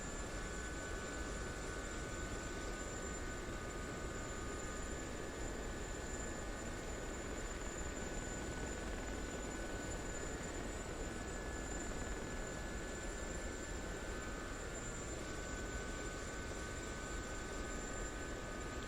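A steady, unbroken engine and rotor drone from a helicopter flying in a flight simulator game, with constant whining tones over a broad rumble and no voices.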